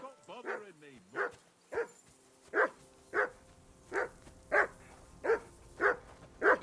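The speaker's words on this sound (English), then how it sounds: "Henry! Call off that damn dog before he wolfs down the last of our mates." A dog barks over and over in Kingdom Come Deliverance II, about ten sharp, evenly spaced woofs close by, with a short voiced whine at the start.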